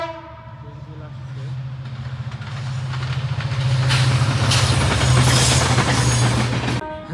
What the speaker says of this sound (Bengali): যে একটা ট্রেন আসছে